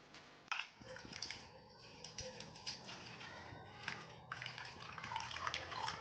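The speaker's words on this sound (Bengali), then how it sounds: "এবার আমি ভালো করে এটাকে 2 থেকে 3 বার ধুয়ে নেব।" Grated potatoes are washed by hand in a bowl of water, with soft sloshing, splashing and dripping, faint and close in an uneven rhythm with no speech.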